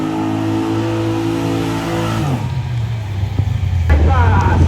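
A Holden Colorado ute does a burnout at a drag strip, its engine revving hard, then dropping in pitch and roaring again beneath crowd noise and a commentator's voice.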